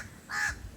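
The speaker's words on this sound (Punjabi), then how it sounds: "ਕਿਹੜੇ ਮਹਿਮਾਨ ਦਾ ਬੁਲਾਵਾ ਹੈ ਜਿਹੜਾ ਕਾਂ ਬੋਲਦਾ ਪਿਆ ਨੇ" A crow on a village mango tree gives a single short, harsh caw at moderate distance, standing alone against quiet rural background.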